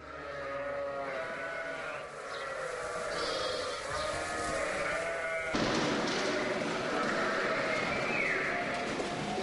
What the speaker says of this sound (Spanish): Los hermanos Pastor tienen sus ovejas de raza castellana anejas a la quesería.